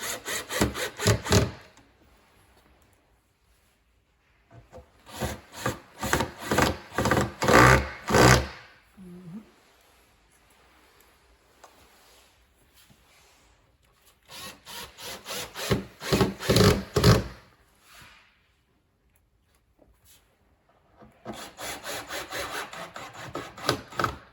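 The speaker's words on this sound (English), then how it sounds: "A lot easier to screw it down than up." Screws being driven into a wooden coffee table during assembly, heard as several loud bursts of rasping, grinding turning with quiet gaps between them, close by and with no talk.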